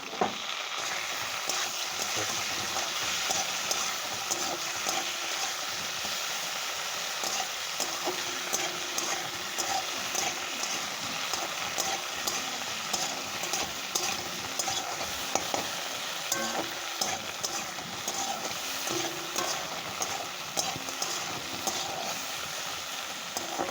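Chopped tomato frying in a pan over steady sizzle, with stirring scrapes and clinks running through the whole stretch at close, even loudness.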